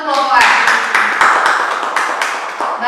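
Students in a classroom group guidance session clap for Group A. The applause is brief and uneven, with distinct claps close by under a speaking voice.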